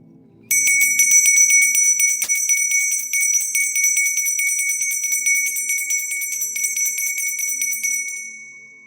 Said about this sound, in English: I'm going to ring the bell, clear your energy